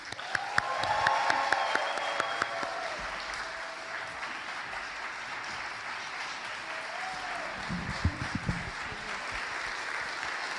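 An audience at Trinity Washington University applauds to welcome Speaker Emerita Nancy Pelosi at a symposium, with steady sustained clapping filling the hall and a few cheers.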